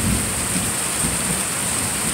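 A thunderstorm on August 7, 2019 brings steady heavy rain hissing down, with low rumbling thunder rolling underneath throughout, a dense constant wash with no voices.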